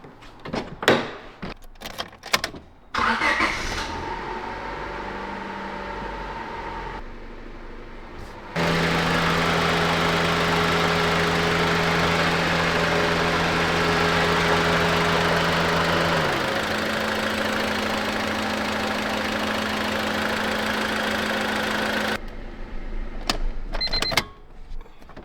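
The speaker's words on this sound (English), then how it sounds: "When it's in park and neutral. Park and neutral, you hear the fluctuating of the RPMs." Honda Civic engine starting after some door and handling clatter, then a loud close idle whose pitch steps down partway as the RPM shifts, before shutting off amid more knocks.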